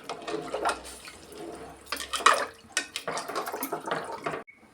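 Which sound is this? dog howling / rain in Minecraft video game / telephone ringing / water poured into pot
water poured into pot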